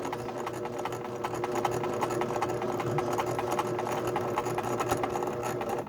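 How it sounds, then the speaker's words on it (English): A sewing machine runs steadily through embroidery stitching, its needle pulsing in a fast even rhythm with a constant motor hum, close and continuous with no talking. "I'm going to start sewing, and I'm going to hold back on my machine just a little bit so those stitches are nice and tight"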